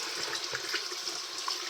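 Tap water runs steadily into a basin while hands are washed, a soft splashing hiss with small irregular drips and spatters, close by and fairly quiet, no voices.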